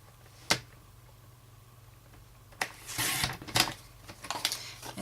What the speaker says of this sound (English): And then taking my trimmer, I'll use those markings that I've got there to trim the sides